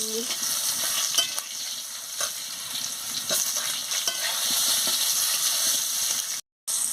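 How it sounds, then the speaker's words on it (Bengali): Mangoes frying in a pan with panch phoron and dried red chillies, a loud steady sizzle with repeated scraping clicks from stirring, and a brief dropout near the end. "আমগুলো একটু নাড়িয়ে নিচ্ছি"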